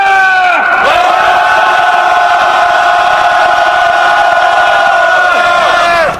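A loud rally crowd outside Korea Exchange Bank shouts together in a sustained chant, the massed voices holding steady for several seconds after a brief break near the start.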